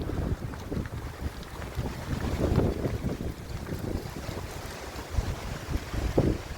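Strong wind roars and buffets the microphone continuously, with a low rumbling hiss and occasional gusts, no voices.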